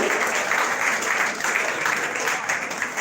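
An audience at a Nigerian youth coalition gathering claps steadily, a dense, continuous round of applause heard up close for a few seconds.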